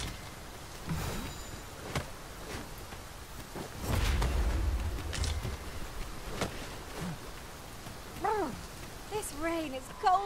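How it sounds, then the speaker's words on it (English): Rain falls steadily in Dragon's Dogma 2, a soft diffuse patter under faint ambient game sounds, with a brief low rumble near the middle and a voice speaking briefly near the end. "This rain is cold as ice."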